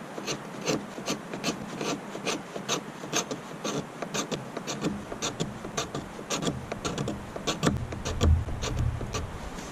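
A blade scrapes along resin-rich fatwood in quick, repeated rasping strokes, each a short dry scratch close to the listener, continuing steadily with no voices.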